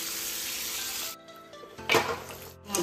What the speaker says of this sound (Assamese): এইখিনি পানী ছটিয়াই যেতিয়ালৈকে নিসিজে তেতিয়ালৈকে ভাজি থাকিম